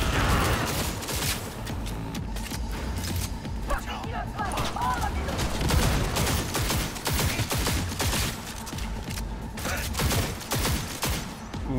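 Gunfire in the video game Cyberpunk 2077: rapid, dense bursts of shots and impacts repeating through the whole stretch, loud, with a voice talking over them.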